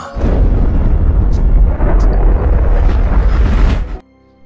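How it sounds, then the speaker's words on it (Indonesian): Atomic bomb explosion over Hiroshima rendered as a sound effect: a loud, sustained roaring blast with deep rumble lasting about four seconds before cutting off abruptly. "Amerika menjatuhkan bom atom ke kota Hiroshima"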